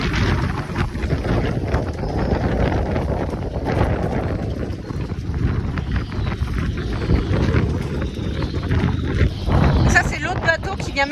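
Storm wind roars loud and continuous outside a moored boat pressed against a quay, a dense buffeting rush with gusts that swell and ease and a clattering burst near the end.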